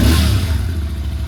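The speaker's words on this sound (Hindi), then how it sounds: "तो पहले हम स्टॉप एग्जॉस्ट का आवाज़ सुनते हैं।" A Royal Enfield GT 650 twin running on its stock exhaust: a loud, close engine burst that settles into a throbbing, slightly clattery idle, brief and alone.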